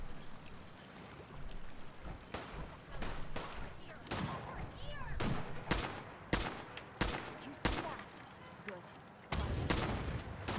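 Bursts of gunfire from the Fallout 4 video game, a series of sharp loud shots and rapid volleys spaced irregularly over a rushing background, with someone talking in between.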